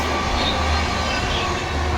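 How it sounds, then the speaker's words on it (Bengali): A train passes near a home kitchen, a dense, steady rumble and rolling roar with low-frequency throb that stays loud and even throughout, with no other clear sounds on top. "ওই ট্রেনের আওয়াজ"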